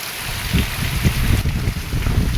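Heavy rain under an overcast sky, a loud, rough wash of falling water with low rumbling gusts and uneven surges, no voices present.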